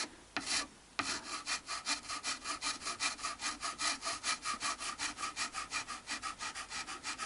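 A metal file rasps against a Fender Modern Player Telecaster control panel in quick, even back-and-forth strokes, close and alone, after a couple of brief opening scrapes.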